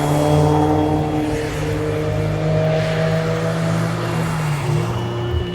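Cars lap the Nürburgring in the rain, heard as a steady engine drone with humming tones that shift as a car passes, loud and continuous throughout.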